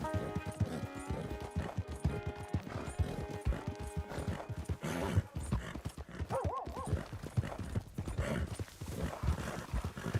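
Horse hooves clip-clop steadily in a western open-world game, Red Dead Redemption 2, with a brief whinny partway through, loud and close over a continuous backdrop of game ambience and music.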